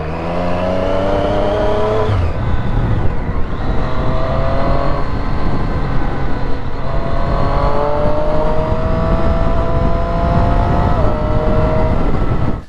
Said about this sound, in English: time for a test ride of the Street Triple